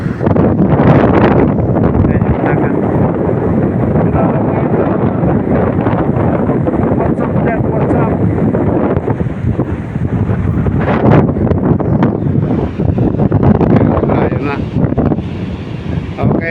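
Strong wind buffets the microphone in a constant roar, with the sea faintly beneath it and no clear speech.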